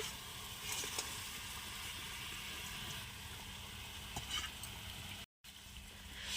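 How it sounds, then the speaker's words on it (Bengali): Pangas fish going into a boiling curry on a clay stove, a soft steady sizzle and bubbling hiss with a few small splashes and taps, faint and close, with a brief dropout late on. "ঝোলটা ফুটে গেছে আর এই যে এবার মাছগুলোকে দিয়ে দিচ্ছি"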